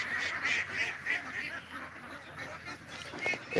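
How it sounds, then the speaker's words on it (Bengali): A flock of pet ducks quacks nearby in a run of repeated nasal calls, some overlapping, with louder bursts near the end. "দেখুন আমার হাঁসগুলো এখানে দেখা যাচ্ছে"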